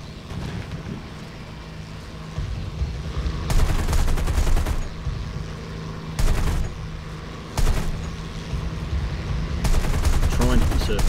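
Gunfire from a P-39K-1 fighter plane in an arcade flight video game: several short, loud bursts of rapid fire over a steady engine drone, spaced a few seconds apart, with the last burst running longest.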